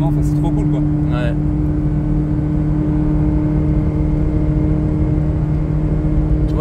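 A Ferrari 360 Modena being driven gives off a steady, droning engine hum with a constant low pitch, running underneath people talking inside the car.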